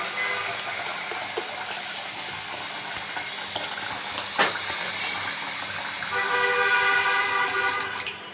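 Tap water runs in a steady, fairly loud rushing hiss in a home kitchen while rice is prepared, continuing throughout with a single sharp knock midway and a brief change in tone near the end.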